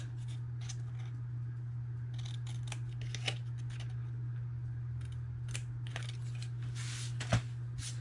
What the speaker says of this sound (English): So I'll bring in my scissors, and I am just going to cut up to the score line